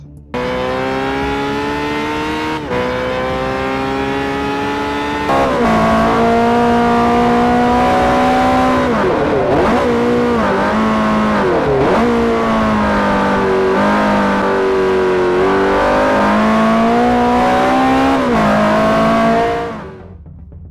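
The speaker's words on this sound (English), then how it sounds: "here's a comparison between Gran Turismo 5 and Forza Motorsport 4 with the same car" The same car's engine in the Gran Turismo 5 and Forza Motorsport 4 racing games revs hard and loud, climbing through several gears with abrupt shift drops, a sustained near-field whine that fades out at the end.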